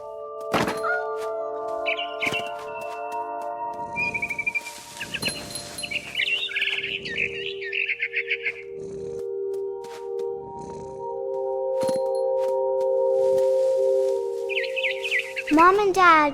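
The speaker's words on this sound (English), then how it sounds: "Then I heard chirping outside my window. It was a barn swallow going back to her nest." A barn swallow chirps in the video game What Remains of Edith Finch, bright calls in bursts among soft thunks and a low purr, with game music tones sustained underneath.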